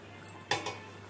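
A boiling cooking pot's lid is lifted while making paneer butter masala, giving one short metallic clink followed by a softer second knock, close and brief against a quiet kitchen background.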